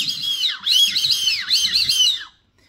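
A homemade whistle call for whistling ducks blows a series of high, wavering whistles with swooping dips, close and loud, ending in silence.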